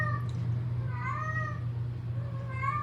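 A house cat meows several times, rising and falling cries close by over a steady low hum in a quiet room.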